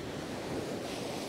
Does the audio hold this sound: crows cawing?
no